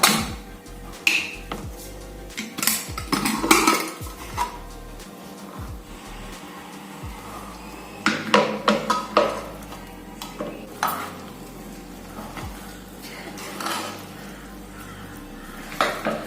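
A cooled pressure cooker holding jackfruit is opened and handled, producing intermittent metallic clanks, scrapes and clicks of lid and pot against a quiet background.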